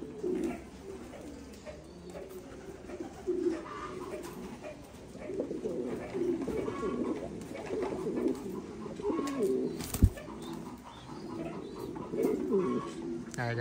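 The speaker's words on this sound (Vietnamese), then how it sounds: "Cặp chim bồ câu bố mẹ." Thai Titan pigeons coo repeatedly in low, throaty rolling calls, fairly close, with a sharp knock partway through and some background noise.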